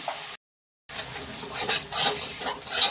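A utensil scrapes and clinks against a pan, stirring onion, garlic, tomato, green chili, ginger and ground spices as they fry in oil, in a close, brief run of scraping over a soft sizzle with no voices.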